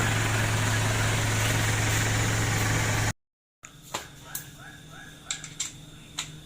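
A Mitsubishi Pajero engine idles loud and steady with a low droning hum for about three seconds, then cuts off abruptly, leaving a quiet night scene with faint frog calls and scattered small knocks.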